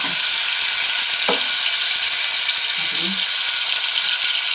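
Tomatoes and green chilies hiss in hot oil for a dal tadka, a loud, steady broadband sizzle that runs unbroken, with a few faint clinks of a spoon against the pan.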